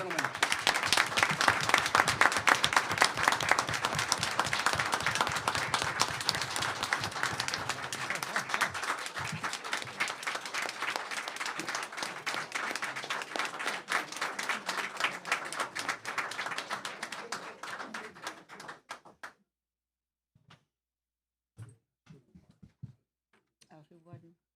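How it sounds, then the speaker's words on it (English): A county board meeting audience gives a sustained round of applause, dense clapping that gradually thins and stops abruptly near the end, followed by a few scattered sounds in near silence. "One more round of applause, please, for these gentlemen."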